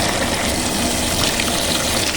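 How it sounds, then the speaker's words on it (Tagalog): Water pours steadily into a bowl to soak sotanghon glass noodles, a loud continuous gushing and splashing like a running tap, close by and alone without talk. "ibabad natin ng tubig yung sotanghon natin para malambot"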